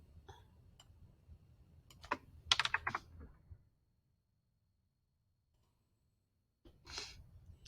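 Typing on a computer keyboard: a quiet run of soft key clicks builds to a quick flurry of sharper taps, then a few seconds of silence before a short final burst of keystrokes, close and intimate.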